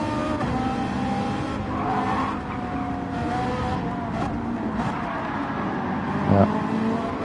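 Racing car in Gran Turismo 7 sliding sideways, engine roar with a scrubbing tire skid running steadily throughout, with a brief louder bump near the end and no talking.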